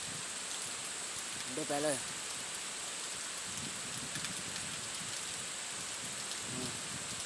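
Steady rain hisses down over a hut raised above a paddy field, a soft continuous wash with a distant low rumble, while a voice briefly speaks.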